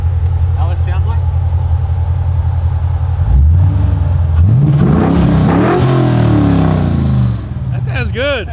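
An LS-swapped HQ Holden with diff dumps instead of tailpipes revs hard close by, its loud engine note climbing and falling through several throttle blips before easing off, with people talking over the idle.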